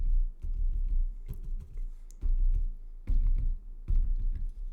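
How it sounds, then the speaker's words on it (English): Dull, low knocks land on a table every second or so, with lighter clicking taps scattered between them. "I will be tapping on the table"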